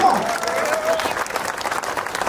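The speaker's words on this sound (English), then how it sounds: "I want everyone here to clap as loud as possible." Crowd clapping loudly at a 10K running race event in Bengaluru, a dense, continuous roar of applause close up, with a brief voice at the start.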